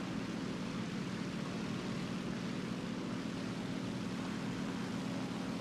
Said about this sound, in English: I can hear this plane in front of me